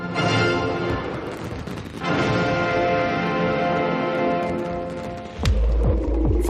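Fireworks shells launched from three separate locations burst together in one heavy, booming blast, then a rumbling, throbbing roar that fades and is followed by another deep, loud thump near the end.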